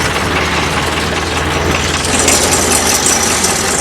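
A 2004 Morbark Model 12 Blizzard 12-inch wood chipper with an 86 hp CAT diesel engine runs steadily and loud as its clutch is slowly engaged, a dense continuous rumble with no speech.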